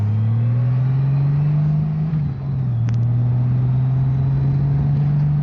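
A Honda Goldwing motorcycle cruises up Route 276 toward Caesar Head, its engine a steady, loud low drone heard close, with a brief dip around a gear change before settling back to a constant hum.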